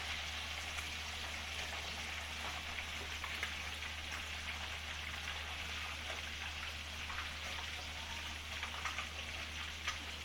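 Fish sizzling in hot oil as it turns golden brown, a steady dense crackle and hiss that holds evenly throughout with no pauses or talking.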